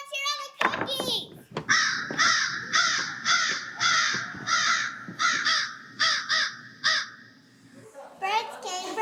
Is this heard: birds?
yes